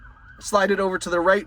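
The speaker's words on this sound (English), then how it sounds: "Sorry about the sirens in the background here." A wailing emergency siren rises and falls loudly through the clip, with a person speaking over it.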